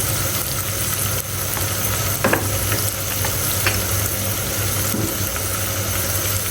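Spices such as red chilli powder being stirred and fried in a hot pan, a steady sizzle with occasional scraping strokes of a spoon, close and continuous with a constant low hum underneath.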